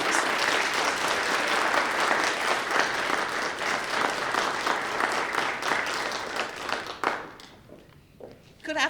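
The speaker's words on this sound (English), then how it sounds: "Please give her a huge round of applause." A crowd applauding at a Mental Health Court 20th anniversary celebration, dense sustained clapping for about seven seconds that then tapers off and fades into quiet room noise.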